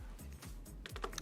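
Keyboard typing while using an Apple Vision Pro headset in a work setting: a short, quiet run of soft key taps, close by and with no talk.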